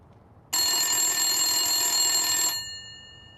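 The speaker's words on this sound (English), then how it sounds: "the public phone suddenly rang" A public telephone bursts into a loud, steady electronic ring that holds for about two seconds before cutting off and leaving a faint fading tone.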